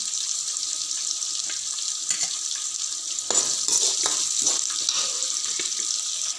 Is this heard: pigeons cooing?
no